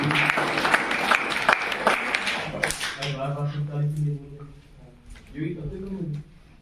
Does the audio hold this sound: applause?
yes